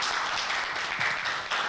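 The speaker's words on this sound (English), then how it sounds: "Charles Lee a round of applause" Applause from a seated audience greeting Mr. Charles Lee of Executive Protection International Academy on a television special, steady dense clapping throughout, moderately loud and close, with no talking over it.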